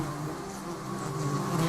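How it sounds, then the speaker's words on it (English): Guard honey bees at the nest edge hiss as a colony to warn off a lizard, giving a steady, close buzzing drone with a low hum underneath that holds level throughout. "lizards are warned with a hiss not to come closer"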